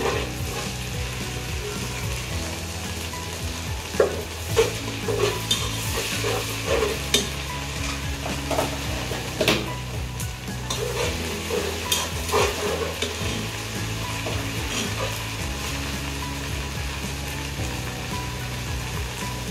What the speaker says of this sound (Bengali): এখন রসুন বাটা দিচ্ছি।